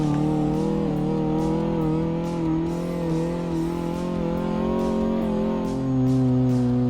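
Engine of a car in Car Mechanic Simulator 2018 holding a steady drone on the test path, pitch rising and dipping through a turn and braking, with faint repeated ticks above, no talk.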